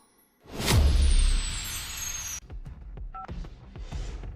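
Telephone keypad dialing tones in a tense drama scene, a quick series of short beeps after a loud whoosh, with a faint paired tone mid-sequence and sharp clicks.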